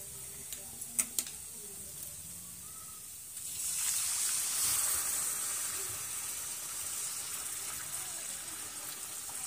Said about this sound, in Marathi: आता ह्यात आपल्याला गरम पाणी घालून घ्यायचं आहे।